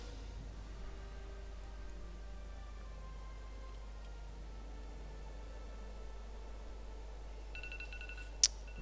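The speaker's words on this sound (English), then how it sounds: "My phone is beeping" A phone gives a short burst of electronic beeps near the end, set against a faint, steady hum.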